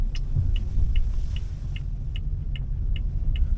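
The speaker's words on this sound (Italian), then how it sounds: "sto attraversando il ponte di dove abito, che è veramente un disastro, è pieno di buche" A Mitsubishi Lancer Evo 5 rolls across a potholed bridge, its low engine and road rumble steady underneath a regular series of light ticks or knocks.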